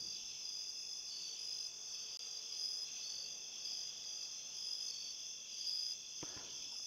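Crickets in the video game Signal Simulator keep up a continuous high chirring trill, steady and moderately loud, with a single soft knock just before the end.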